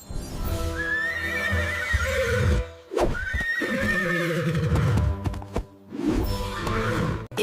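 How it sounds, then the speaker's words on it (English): A horse whinnies loudly in three long, wavering neighs separated by short pauses, close and clear with no voices. "Horse."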